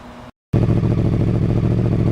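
A Kawasaki ZX750R motorcycle engine idles steadily on a cold day while warming up, a loud, close, continuous rumble with a fine rhythmic pulse after a brief dropout near the start.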